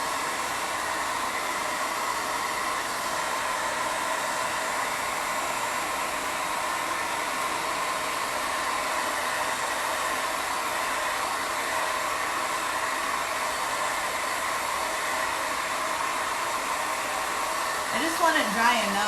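A hair dryer blows steadily on a freshly made, still-wet tote bag, a loud continuous whooshing roar held close for the whole stretch, with a brief shift in tone right at the end.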